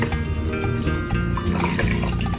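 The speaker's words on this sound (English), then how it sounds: "I am going to pour all the tomatoes and the water that's in here into my cup as well" Chopped tomatoes and water poured into a blender cup, giving a steady, close splashing and glugging of liquid that runs throughout.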